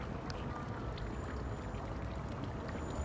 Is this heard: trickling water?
yes